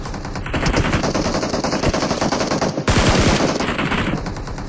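Loud, dense automatic gunfire from the video game PUBG Mobile rattles in sustained bursts, with a brief pause and then a heavier volley of rapid shots, close and with no voices over it.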